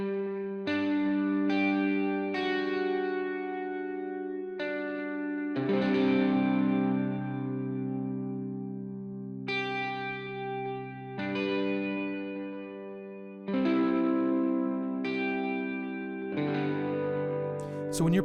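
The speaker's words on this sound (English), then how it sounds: "It makes it sound like you have two guitars playing, which it is two guitars playing." Two ambient electric guitars play together through effects such as chorus, distortion and echo, with sustained layered chords and swelling phrases that ring out, close and steady with no talking.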